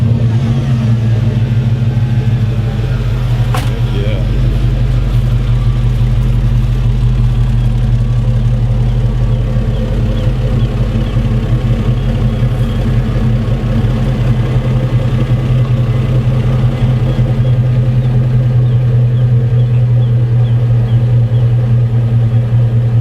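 A slammed Squarebody Chevy C10 pickup with a 6.0 LS V8 and Magnaflow exhaust runs on, a loud, steady deep engine rumble held for over twenty seconds with slight revving swells, no talking.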